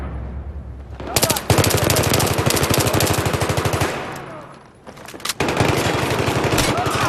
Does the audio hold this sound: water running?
no